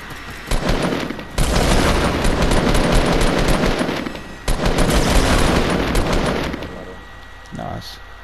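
Loud bursts of rapid automatic gunfire in the video game Fortnite come in three long volleys separated by brief pauses, ending with a single faint shot.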